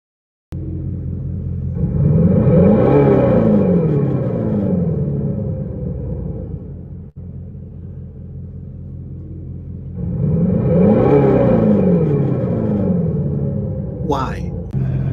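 A car engine revs up twice as the accelerator pedal is pressed, each time a loud rumbling surge that swells and then falls back, ending with a brief sharp sound.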